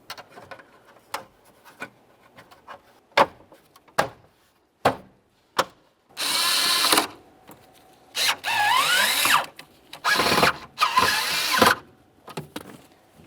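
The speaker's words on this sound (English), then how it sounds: "put in all 3 of our mounting screws" A power drill drives mounting screws into a steering column cover on a 1994-2002 Dodge Ram 2500 during a towing mirror install, in several short whirring bursts between clicks and handling knocks.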